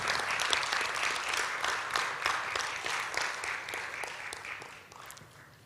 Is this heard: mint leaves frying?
no